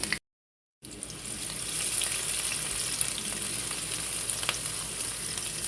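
Two onions cut into pieces frying in oil for a mustard pointed gourd dish, a steady close sizzle that begins abruptly after a short gap of silence and continues evenly.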